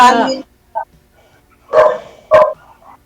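A dog barks several times nearby: a loud bark, a short yip, then two more sharp barks with short pauses between them.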